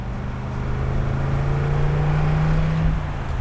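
The rebuilt engine of a 1962 Corvette convertible runs smoothly at a steady idle, giving a low, even hum with no talk over it.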